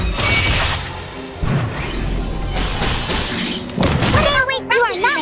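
Shattering glass skill effect in the video game Reverse: 1999, a loud crash and burst of debris over dense game music and effects, followed by a rising whooshing flourish.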